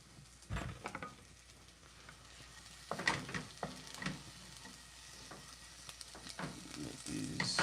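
Plantain fries in a pan with an intermittent crackle and sputter, punctuated by clacks of stirring and pan handling, fairly quiet and close, with no talking.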